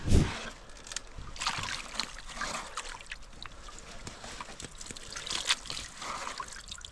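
A gold pan of gravel from a bedrock trench is swirled and washed out in water, with close, irregular sloshing and trickling splashes that rise and fall in bursts, and faint voices now and then.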